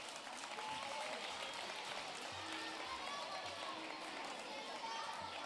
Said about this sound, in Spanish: Ahora vais a tener que aplaudir